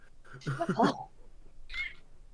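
A house cat lets out a short meow close by in a quiet indoor room, followed a moment later by a softer, higher cry.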